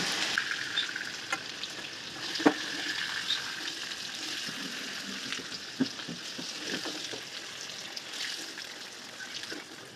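Gentle, steady frying sizzle of pointed gourd in oil with occasional clinks and scrapes of a spatula stirring, close and without any voices.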